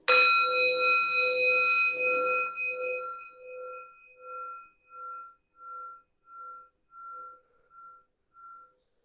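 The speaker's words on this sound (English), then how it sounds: "I'll ring a bell." A single strike of a meditation bell at the start of a seated group meditation session, a bright clear tone that rings out alone and fades slowly over about nine seconds with a gentle pulsing shimmer.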